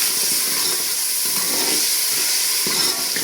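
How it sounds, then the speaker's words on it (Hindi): Water poured into a pan of frying spices with carom seeds and turmeric for daal mash, a loud continuous hissing sizzle with bubbling, steady throughout. "मैं पानी का डालने लगी ताकि मसाले की जो भुनाई है अच्छी तरह हो जाए"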